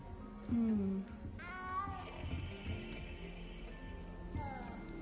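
A cat in the video game Hogwarts Legacy meows several times, close and clear, with drawn-out rising and falling calls over quiet ambient game music.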